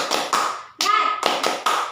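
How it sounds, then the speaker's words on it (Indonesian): A primary school class does a rhythmic spirit clap, sharp, crisp claps in quick groups with short pauses between them, close and loud, while a voice chants between the beats. "sebaiknya kita tepuk semangat ya"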